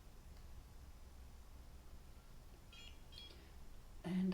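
A microcurrent facial device held against the neck gives a few short electronic beeps near the end, after a stretch of quiet room hush.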